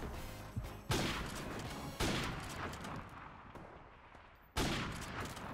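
Sniper rifle shots in Call of Duty Modern Warfare Remastered ring out as three sharp, loud cracks spaced a second or more apart, each followed by a decaying echo and game ambience.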